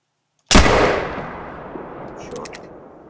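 A single loud blast from a Hudzik .50 black powder muzzleloader rifle in a hunting game, sharp onset followed by a long rolling echo that decays over a couple of seconds.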